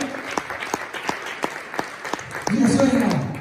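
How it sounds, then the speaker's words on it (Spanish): Church congregation applauding at a Spanish-language sermon, a burst of steady clapping that swells louder near the end, mixed with voices and shouts. "Dale palmas a la palabra."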